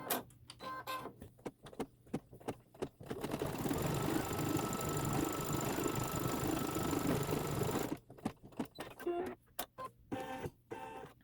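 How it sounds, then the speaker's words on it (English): An embroidery machine sews a collar placement stitch on a quilt block. Scattered clicks and handling noises lead into a few seconds of steady, buzzing stitching, then it stops and the sparse taps return. "Our next step is the placement stitch for the collar."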